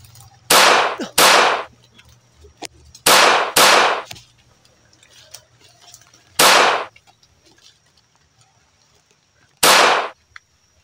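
Five loud, sharp firecracker bangs go off close by at irregular intervals, each a sudden broadband blast with a short decaying tail, separated by quiet pauses with faint background noise.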